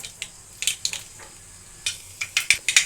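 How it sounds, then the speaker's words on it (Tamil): Mustard seeds hitting hot oil in a pan, giving short crackling sizzles and pops in scattered bursts, close up with no voices. "எண்ணெய் காஞ்சாச்சு, கடுகு போட்டுக்கலாம்."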